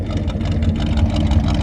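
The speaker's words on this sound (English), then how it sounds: "Actually, let's listen to the engine." A 1955 Chevrolet wagon engine idling with a lumpy cam, a loud, close, deep rumble with a steady uneven lope and no talking.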